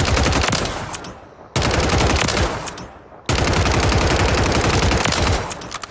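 Rapid automatic assault rifle fire in Warzone 3 comes in three long, loud bursts, each cutting off sharply before the next begins.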